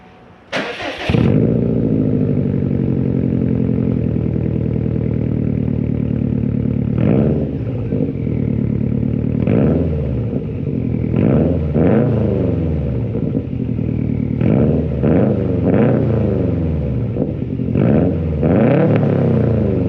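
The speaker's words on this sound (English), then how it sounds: "I'm gonna go ahead and give her a couple revs for you" 2020 Subaru WRX STI with a new aftermarket exhaust starts up, settles into a steady idle, then takes a series of short, sharp revs close by.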